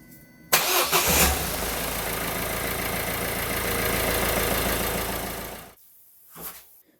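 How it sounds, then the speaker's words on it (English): A Peugeot Citroen Ford 1.6 HDi diesel cranks briefly and catches, then settles into a close, steady clattering idle for several seconds before being shut off, followed by a short soft rustle. "Now I'm going to close the cap and we're going to start the engine"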